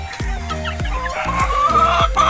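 A chicken clucks repeatedly at close range, a series of sharp, rhythmic clucks roughly every half second, with some background noise underneath.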